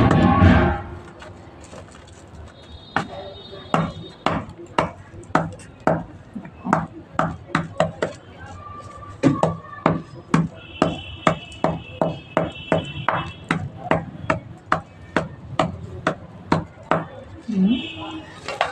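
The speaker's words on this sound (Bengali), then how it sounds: "তো দেখো বন্ধুরা আমি কি করে গুঁড়ো করছি।" Material is pounded into powder for planting a hibiscus plant, a long series of sharp, hard, evenly spaced thuds with faint ringing tones, close, continuing steadily for many strokes with little talk.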